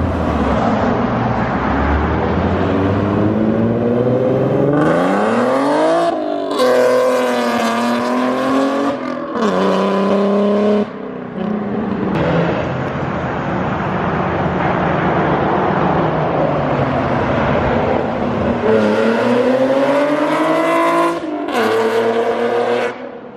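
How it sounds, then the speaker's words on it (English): A 2014 Ford Mustang GT500 makes loud, sustained full-throttle pulls, engine pitch climbing repeatedly through the gears with supercharger whine riding on top and brief drops between shifts. "Supercharger's also supposed to whine."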